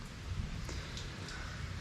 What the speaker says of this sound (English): we've probably gotten at least 1 inch or 2 of rain.